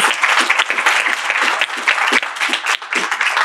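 A seated audience at a Spanish-language talk claps steadily for a few seconds, a full, even round of applause with no voices over it.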